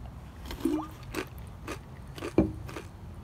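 Caramel-colored popcorn snack mix crunches in close bites on a camping trip, a few distinct crisp chews spaced out over steady outdoor background noise.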